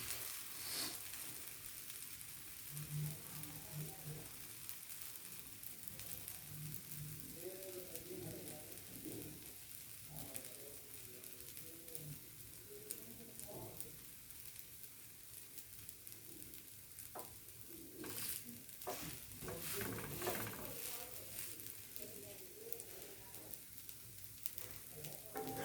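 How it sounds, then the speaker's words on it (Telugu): A multigrain dosa fries crisp in oil on a hot pan, giving a steady, soft sizzle and crackle that runs throughout, with faint speech in the background. "ఫైనల్గా మల్టీగ్రెయిన్ దోశ ఇలా క్రిస్పీగా కాల్చుకోవాలి."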